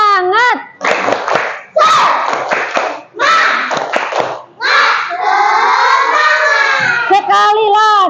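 Schoolchildren in an Indonesian classroom chant and clap together in the tepuk semangat cheer, loud and close, with bursts of rhythmic group voices and claps separated by short pauses.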